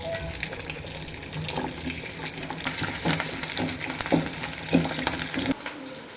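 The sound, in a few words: garlic and green chillies frying in coconut oil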